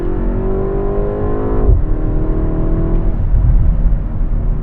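The 317-horsepower engine of a BMW M135 with all-wheel drive accelerates hard, a loud, close in-car drone that climbs in pitch, drops sharply at a gear shift, then climbs again.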